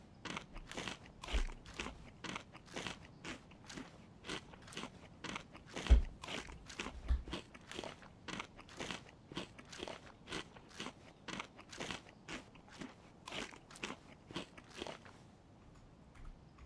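Bacon being eaten by a character in the video game DayZ: a steady run of crisp crunching bites and chewing sounds, repeated about every half second for the whole stretch, close and clear with no talk.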